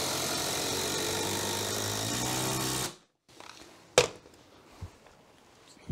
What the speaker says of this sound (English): just the impact driver. And just screw that right through into the stud